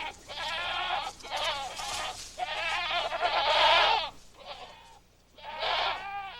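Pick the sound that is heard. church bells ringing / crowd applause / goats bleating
goats bleating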